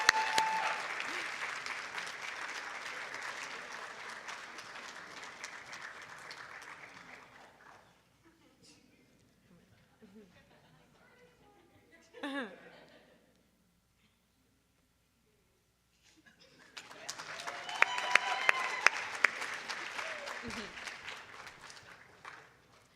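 Audience applause at a university awards ceremony, a full round of clapping that fades into a quiet stretch, then a second wave of applause rises with some louder close claps.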